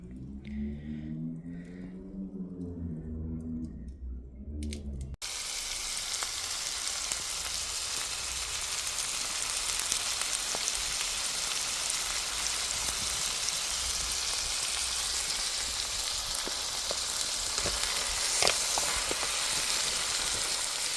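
Beef marinated in hoisin sauce, soy sauce, salt, pepper and Chinese five spice sizzles loudly and steadily over an outdoor fire pit, following a brief tonal passage at the start.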